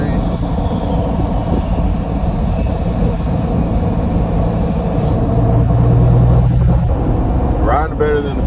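Cummins diesel truck rolling on a new set of LP wheels and tires, a steady loud road and engine drone throughout with a brief voice near the end.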